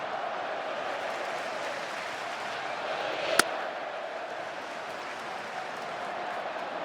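A baseball crowd murmurs steadily in a Philadelphia ballpark during a Dodgers vs Phillies playoff game, a broad, far-off wash of noise with one sharp crack partway through.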